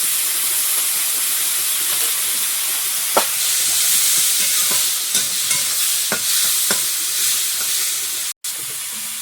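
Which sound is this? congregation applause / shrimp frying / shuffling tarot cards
shrimp frying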